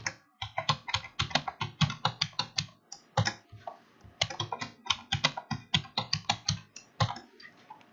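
A new password is typed on a computer keyboard, with rapid bursts of crisp, close keystrokes broken by brief pauses and no voices.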